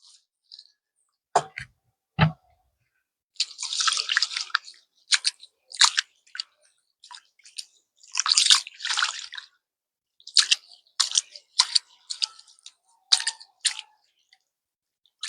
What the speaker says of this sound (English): time to get the rice wash now